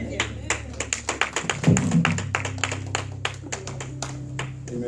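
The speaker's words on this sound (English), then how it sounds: "Come on, clap your hands for the Lord this morning." Church congregation clapping hands at a morning service, a run of sharp, rhythmic claps close by, keeping a steady beat while a voice and organ-like tones sound underneath.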